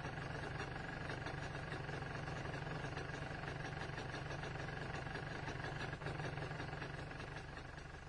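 An MZ ETZ 250 motorcycle engine idles at roughly 1,300 to 1,500 rpm, a steady, close, unbroken drone that keeps an even level throughout with no voices over it.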